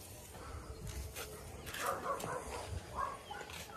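A small dog gives a few short, thin barks at a distance over faint outdoor noise.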